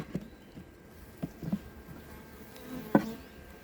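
Faint, scattered honeybee buzzing around an open hive with a few brief louder passes as bees fly close by in a quiet outdoor setting.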